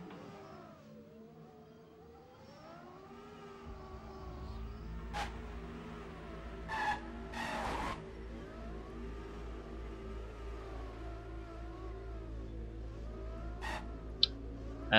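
Racing cars drifting through corners in a video game race give a steady mid-pitched engine drone with wavering pitch. A couple of brief sharp bursts pass over it, and a low rumble continues throughout.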